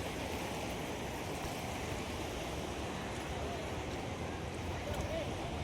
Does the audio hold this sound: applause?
no